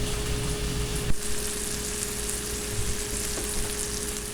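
Sausage sizzles steadily in a hot pan, a dense, even crackle of frying fat close up, with a faint steady hum underneath and a single brief clatter.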